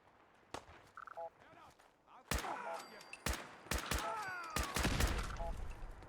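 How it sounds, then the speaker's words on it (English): Gunfire in the video game Fallout 4, a modded survival playthrough: sharp separate shots crack out one after another at close range over a bed of game sounds, with a few short bursts in the second half. "We have gunfire."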